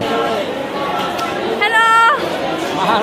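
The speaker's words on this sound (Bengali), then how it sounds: "তোমরা জাস্ট দেখো এখানে কত মানুষের ভিড়।" Crowd of people chattering on a packed metro rail station, a dense murmur of many voices with one nearby voice speaking over it and a brief high electronic tone partway through.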